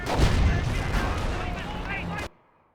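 Artillery barrage in Company of Heroes 1, a dense rumble of heavy blasts and impacts with battle noise and voices in the mix, cutting off abruptly near the end.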